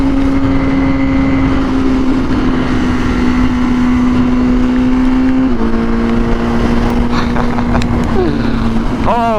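Honda Fireblade 1000RR-R SP motorcycle accelerating hard on the road, a loud steady engine drone rising through the gears with a brief shift dip and wind roar throughout.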